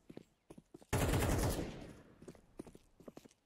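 Gunfire in the video game Counter-Strike 2, one loud burst of shots that trails off, with clicky footsteps and game noises before and after.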